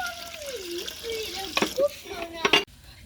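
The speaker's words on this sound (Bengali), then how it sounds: "হাঁড়িতে দিয়ে দিলাম পানি" Water being poured into a cooking pot while making vapa puli pitha, a short splashing pour with rising gurgles ending in an abrupt stop, close up, with a voice briefly over it.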